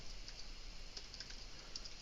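Quiet clicking of computer keys as someone types, a soft uneven patter of keystrokes over a low background hiss.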